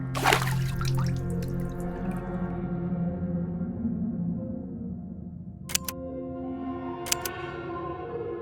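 Water drips onto an image in the Dracula 5: The Blood Legacy game, with a splashy watery start, then several sharp, clear drip plinks over a sustained musical tone.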